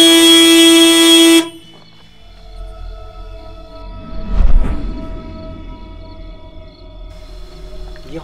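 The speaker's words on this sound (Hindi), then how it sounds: "ये हॉर्न बजा कैसे?" A car horn blasts loudly and steadily for over a second inside a car on an empty road, then cuts off abruptly, leaving a low engine hum and a brief rustle.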